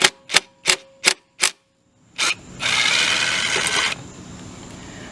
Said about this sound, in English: I'm using chrome sockets on an impact